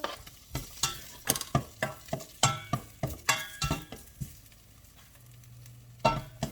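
Ginger sautés in a hot pan with a rapid run of close scraping stirs over a soft sizzle, then a brief quieter pause before a couple more stirs.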